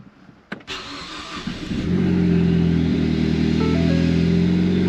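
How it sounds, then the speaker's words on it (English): A budget drag race car engine starting: a short whirring crank with a couple of sharp clicks, then the engine catches and settles into a loud, steady, rumbling idle, no talk. "Alright, let's go ahead and start it. It's got a full tank of gas."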